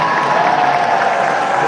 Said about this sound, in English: There's mild applause, but not actual applause.